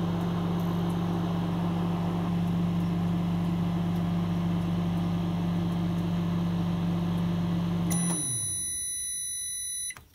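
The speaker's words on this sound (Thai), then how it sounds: "เดี๋ยวเอาเข้าไมโครเวฟกันนะคะเป็นเวลา1นาทีลองดูก่อนค่ะ" A microwave oven heats a bread krathong float, giving a steady low electrical hum for about eight seconds. The hum then cuts off and a few bright beeps sound before the clip goes quiet.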